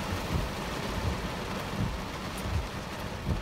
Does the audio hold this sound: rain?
yes